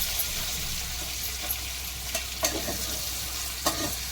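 Stuffed capsicum sizzles steadily in a covered pan on low flame while a spoon scrapes and stirs it, giving a few sharp clicks and clinks over the constant frying hiss.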